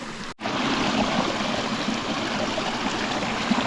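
A mountain stream in the Carpathians rushes steadily close by, a dense continuous wash of flowing water after a brief cut at the start.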